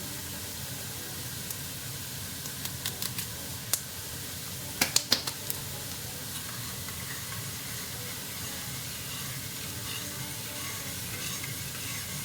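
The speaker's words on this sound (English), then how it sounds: "Oh yeah, the onions. Yeah, it's browning up." Onions browning in a home kitchen pan give a steady, close sizzle and hiss, with a few sharp crackles and pops clustered in the middle and no talking.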